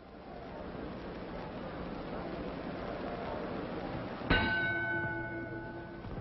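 A boxing ring bell clangs once to end round three of a Floyd Patterson fight, its ringing tone decaying over the steady roar of the arena crowd.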